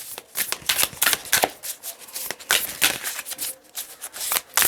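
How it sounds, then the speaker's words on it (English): Tarot cards shuffled by hand close up, a rapid run of crisp riffling flutters and slaps repeating steadily with no talk. "I keep mixing my card upside down today"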